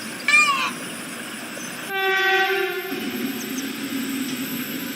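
A train horn blasts for about a second, followed by a steady low rumble of a train rolling past on the Palakkad–Coimbatore B line through forest, slowed near the forest edge; a brief bird call sounds just before.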